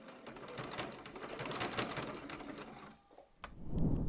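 Sewing machine back stitching a purse strap, a quiet rapid needle clatter for about three seconds, then a short pause and a low thump as the run ends, close but faint.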